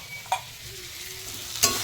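Washed spinach goes into hot oil in a home kitchen where potatoes have already been fried, giving a soft sizzle with a couple of sharp stirring clinks. No one speaks.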